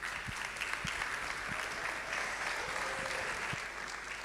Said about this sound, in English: Can we keep clapping for her?